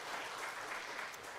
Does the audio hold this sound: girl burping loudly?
no